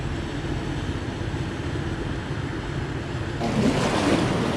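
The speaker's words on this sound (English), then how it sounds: "There's a big boat right there." A steady wash of water and engine rumble on a canal in Orange Beach, Alabama, with a big boat passing close by and its wake swelling louder near the end; wind buffets the microphone.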